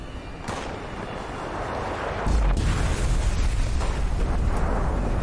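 Bomb blast in the online game Fallout 76, a dense rumbling roar that swells partway through into a louder, deep booming surge and keeps rolling to the end, with no talking.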